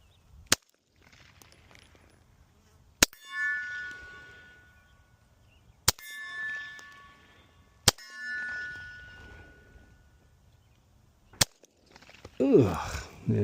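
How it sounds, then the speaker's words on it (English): Five suppressed shots from a Glock 43X fitted with a JK Armament 105 CCX suppressor, with petroleum jelly in a couple of baffles, sharp loud cracks spaced a few seconds apart, each ringing off a metal target, with brief talk in between. "back again with the Glock 43X build. We got 5 rounds, just a couple of baffles of petroleum jelly."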